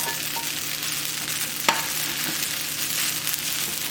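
Cooked shrimp hokkien stirred in a hot pan gives a steady close sizzle with soft scraping, plus one sharp clink of the utensil partway through.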